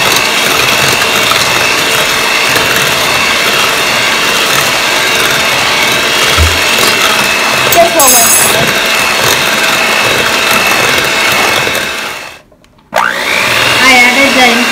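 An electric mixer runs loudly and continuously through cookie dough as flour mixture is worked into creamed butter for eggless strawberry thumbprint cookies, briefly stopping near the end before restarting.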